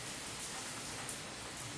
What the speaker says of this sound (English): it was light rain, but this time it's heavy rain, so I'm going in